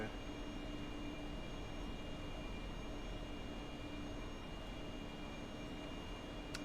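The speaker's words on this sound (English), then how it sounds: "We're hovering the Harrier." Harrier jump jet hovering in a video game, a steady loud engine roar and broad whine that holds constant without breaks.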